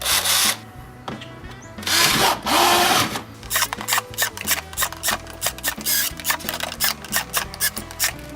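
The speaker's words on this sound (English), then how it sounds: "So this is just a regular cordless drill with a 1/4 inch drill bit." A cordless drill with a 1/4 inch bit whirs in repeated short bursts while drilling holes in a plastic container, with clattering and scraping of plastic between runs, loud and close.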